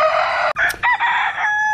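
A rooster crows loudly and close by among a backyard flock in a chicken tractor, one long drawn-out call broken by a brief gap, with hens clucking around it.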